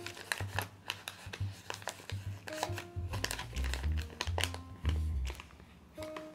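Paper for an origami boat is folded along its creases, giving close, crisp crinkles and sharp creasing snaps in an irregular run of handling sounds.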